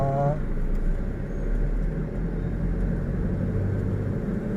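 A manual-transmission pickup truck engine drones with a steady low rumble as it is driven up a shopping-mall ramp, loud and close, with a voice speaking over it.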